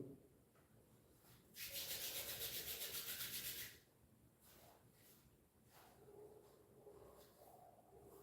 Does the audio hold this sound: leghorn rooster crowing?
no